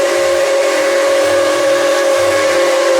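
A loud, steady blast from the giant whistle of steam locomotive Nickel Plate Road 765 on an excursion, one continuous sustained chord from start to end with breathy steam hiss behind it.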